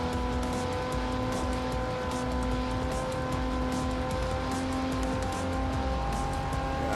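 A DeLorean driven in Forza Motorsport 4, its engine drone steady and loud under a continuous tire squeal, with no pauses.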